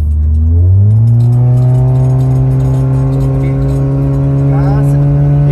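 A turbocharged Honda Brio engine revs steadily up to high RPM, its close, loud tone climbing in pitch and holding a sustained whine, with people talking over it.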